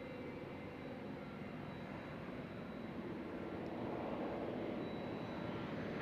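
Fixed-wing airplane engine roaring steadily at Van Nuys Airport during a takeoff on runway 16 right, a distant, fairly faint broadband rumble that builds slightly toward the end.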